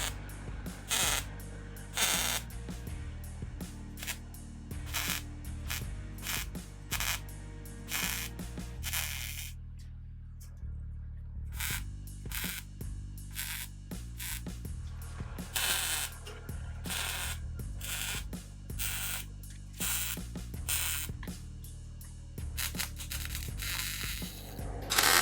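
Tack welding on a car body structure held with clamps, heard as a series of short crackling, buzzing bursts with gaps between them, including a longer quiet spell partway through, close and fairly quiet, no talking.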